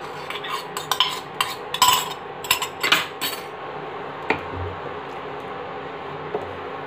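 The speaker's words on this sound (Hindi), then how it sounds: "अब बस मैं यहाँ पे थोड़ा सा दूध ली हूँ, इसमें मैंने मलाई भी ले लिया है, और इसको मिक्स करके इसमें मैं डाल दूँगी।" A metal spoon clinks and scrapes in a bowl as milk and cream are stirred together for a water chestnut vegetable dish, with a quick run of taps followed by a quieter, softer mix.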